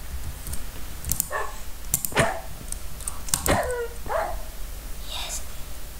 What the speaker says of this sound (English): Okay, I hear another wolf.